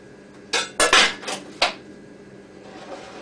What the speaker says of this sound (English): to clean out my strainer, and then we're ready to go again